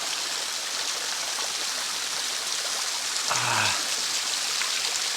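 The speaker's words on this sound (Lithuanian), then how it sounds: "Čia koks tai krioklys. Čia per tas samanas vanduo šitais" Water from a small waterfall spills and foams over moss near Paphos, Cyprus, a steady close hiss of flowing water running throughout with a brief low tonal murmur partway through.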